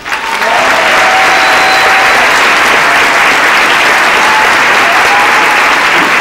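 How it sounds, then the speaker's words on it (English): A school mariachi program audience applauds its director, a dense, steady wash of clapping from a full room that holds at an even loud level for several seconds. "give him a big round of applause, their director, Mr. John Contreras"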